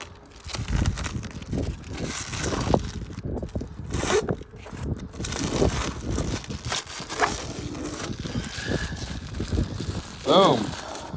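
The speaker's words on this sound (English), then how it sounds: "Go ahead and peel our protective plastic off." Protective plastic film being peeled off a newly installed MaxxFan roof vent on a race trailer, heard as close crinkling, rubbing and tearing rustles running throughout, with brief talk mixed in.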